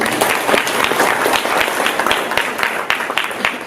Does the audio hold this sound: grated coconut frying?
no